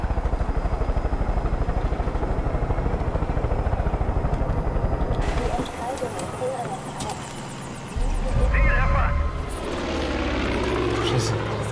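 A helicopter in Far Cry 5 gives off a steady rhythmic rotor chop throughout. The chop grows louder and busier partway through, mixing with bursts of game action and noise.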